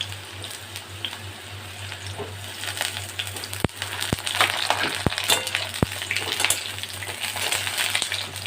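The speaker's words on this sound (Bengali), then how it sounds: "এবারে আমি এই তেলটাতে একটু আলু বেগুনগুলো ভেজে নেব" Potatoes and eggplant frying in hot oil in a pan, a steady close sizzle and crackle with a few sharp utensil clinks against the pan scattered through, rising a little in intensity toward the end.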